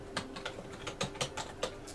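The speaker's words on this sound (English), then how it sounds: "But I'm typing it here." Steady typing on a computer keyboard, a quick irregular run of soft, close key clicks with no voices.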